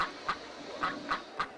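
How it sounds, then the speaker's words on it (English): Cartoon ducks in the RollerCoaster Tycoon video game honk when clicked, four short nasal quacks spaced at irregular intervals over a quiet background, with no voices. "I like that you can click on the ducks to get them to honk."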